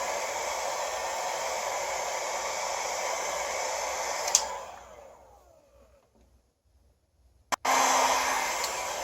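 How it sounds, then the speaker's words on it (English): Heat gun blowing a steady loud broadband hiss onto the thick plastic of a Target Smuggler's Run BMF Millennium Falcon toy, winding down to near silence for a few seconds before roaring back on abruptly. "The plastic on this is very thick. It'll take some time to get it evenly heated."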